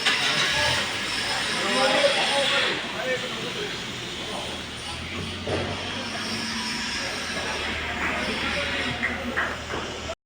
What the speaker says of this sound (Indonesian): Kemudian kita hidupkan mesinnya.